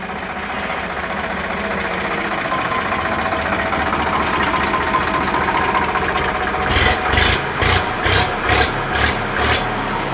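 A 2011 Sonalika DI 60 RX tractor idles with a steady low diesel rumble throughout, close and loud, followed by a series of rhythmic knocking bursts in the last few seconds.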